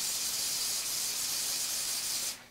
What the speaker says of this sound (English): So let me spray this right here.